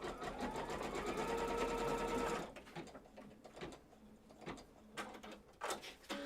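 A sewing machine stitches quilt block fabric for a Courthouse Steps block, a close, steady mechanical whir for a couple of seconds that stops abruptly, followed by scattered soft handling clicks and knocks.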